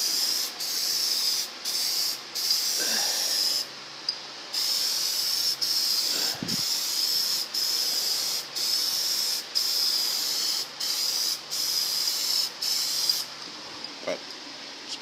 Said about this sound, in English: Ventilation is key when you're using spray paint indoors.